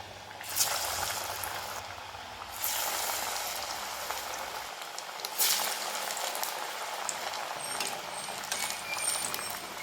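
Tapioca (maravalli kizhangu) vadai patties sizzle and bubble in hot oil over a medium flame, a steady close frying hiss running through the whole stretch with occasional louder crackles.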